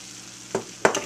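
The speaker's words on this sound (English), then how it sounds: "Now I'm just going to keep cutting, tossing, and stirring until it's cooked all the way through" Food in a pan being cut, tossed and stirred over a soft sizzle, with two quick scraping clatters close by.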